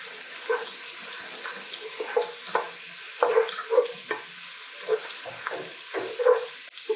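Onions frying in a pan for chips masala give a soft, steady sizzle broken by repeated scraping stirs and clinks of the utensil, fairly close.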